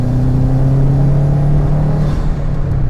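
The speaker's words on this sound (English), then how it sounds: "I've been cruising around in my STI" A Subaru STI's engine drones steadily from inside the car while it is driven, a loud, close, low rumble that holds even throughout.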